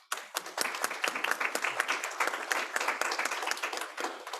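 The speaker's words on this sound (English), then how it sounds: "he deserves a round of applause" An audience claps for a dean at a book presentation, with sharp, individual hand claps packed into a lively, sustained round that starts abruptly and continues without talk.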